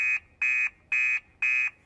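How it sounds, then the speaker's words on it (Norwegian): An alarm in a cartoon about a fire station sounds in four loud, even buzzing tones with short gaps between them and no talking over it. "Alarmen går!"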